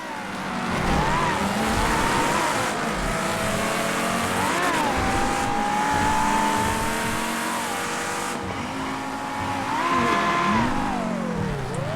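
Race car in a GTA roleplay street race revving and accelerating steadily, engine pitch rising and falling through gear shifts with tire squeal around a late handbrake turn, loud and continuous, with no voices.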